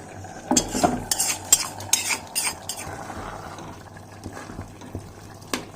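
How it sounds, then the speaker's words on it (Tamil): Sizzling tempering poured into a snake gourd stew and stirred with a metal spoon: a burst of clattering scrapes against the pot, then quieter stirring over a low bubbling simmer, close and clear, with no voices. "இது தாளிச்சதை எடுத்து இந்த கூட்டோட சேர்த்துடலாம்"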